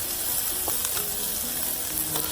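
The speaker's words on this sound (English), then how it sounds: "onion, all my mushrooms in. There you go. And just stir fry" Mushrooms and onion are stir-fried over high heat for Vietnamese crispy noodles, giving a steady, close sizzle with occasional scraping stirs and light clinks, and no talking.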